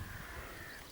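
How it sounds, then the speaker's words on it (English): Several lively crows caw continuously beside the waters near Medvin Moss in eastern Strathearn, a dense, raspy chorus of overlapping calls over steady outdoor background noise. "I've got a lot of lively crows"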